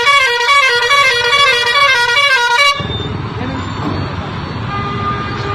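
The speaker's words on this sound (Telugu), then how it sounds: "ఇసోంటి హారన్లు ఎందుకు పెడుతుండ్రు బండ్లకు" A loud, close musical horn fitted to a vehicle blares a rapidly alternating multi-tone pattern for nearly three seconds, then cuts off abruptly, leaving a dense wash of street and traffic noise.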